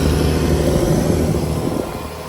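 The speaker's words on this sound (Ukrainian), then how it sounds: "На 1400 оборотів у нього двіжок працює." Tractor engine held at 1400 rpm while strip-till sowing sunflower, a steady loud low rumble with dense mechanical noise that stays constant throughout, without any talk.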